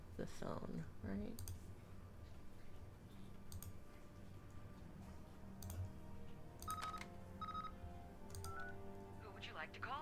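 A telephone number is dialled on a touch-tone keypad, with a short series of faint beeps and clicks spaced unevenly over a low background hum and scattered noises.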